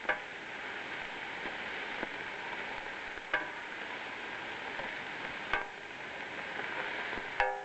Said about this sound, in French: Donc je retourne les légumes toujours, je les travaille.